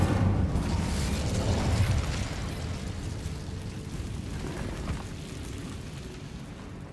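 The Incendio fire spell is cast in Hogwarts Legacy, a loud whooshing, crackling burst of flame that starts strong and slowly fades into a steady rushing roar over several seconds.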